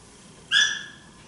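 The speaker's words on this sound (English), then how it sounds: "I may hear Willow barking in the background" A single short, high-pitched bark from an Aussiedoodle rings out once against a quiet background, moderately close.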